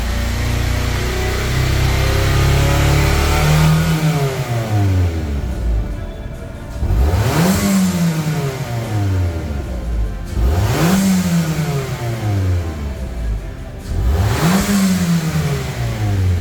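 Mitsubishi Xpander engine revved repeatedly with an aftermarket Blackcore part fitted: a steady idle, then several rising throttle blips that climb and fall back in a regular rhythm, loud and close, with no voices.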